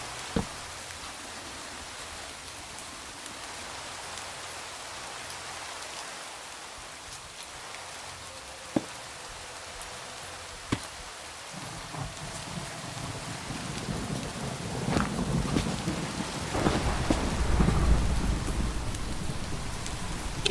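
Video game rain hisses steadily with a few sharp cracks from a lightning strike, then a deep thunder rumble swells and lingers toward the end, with no talking.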